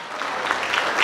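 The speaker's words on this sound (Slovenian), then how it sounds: "Dajmo en velik aplavz, spoštovane dame in gospodje." Crowd applause greets the opening of a spring agricultural fair in Komenda, a brief burst of dense outdoor clapping that swells slightly toward the end.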